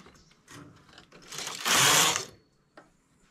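A knitting machine being worked runs in short mechanical passes, rising to one loud rasping sweep of the carriage before stopping, followed by a faint click.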